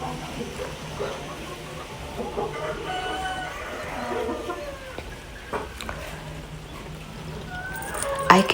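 Chickens at a home farm during morning watering and feeding, clucking and calling in a busy flock at moderate distance, with a rooster-like call among them and some low background noise.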